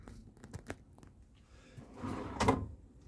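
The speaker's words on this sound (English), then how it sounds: "Again, soft close." A soft-close drawer in an Adria Twin Supreme 640 SGX campervan slides shut, a quiet rolling glide ending in a gentle muffled thump, close and alone with no talk.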